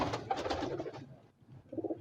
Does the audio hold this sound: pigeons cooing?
yes